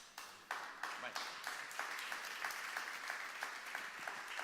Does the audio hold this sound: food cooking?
no